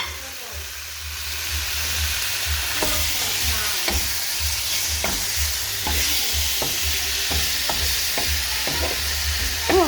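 Beef for caldereta fries in a pan with a steady sizzle, broken by repeated sharp scrapes and clacks of stirring. A voice speaks briefly.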